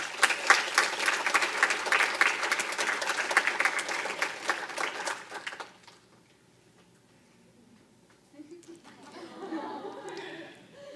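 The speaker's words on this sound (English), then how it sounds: "Please welcome with a big round of applause 2019 Second Princess Brooke Adamitz." An audience at a small-town barbecue festival coronation claps to welcome a pageant princess, a loud, dense burst of applause for about six seconds that drops away, followed by quieter murmuring and a few scattered sounds.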